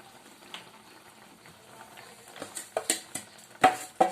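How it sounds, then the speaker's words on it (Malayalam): Carrot rava kesari mixture with semolina boiling in a pan, giving scattered soft bubbling pops and wet plops that grow louder and more frequent toward the end, heard close with no talk. "നമ്മുടെ ക്യാരറ്റ് റവ കേസരിക്കുള്ള ആ ഒരു കൂട്ട് തിളച്ച് വരുന്നുണ്ട്"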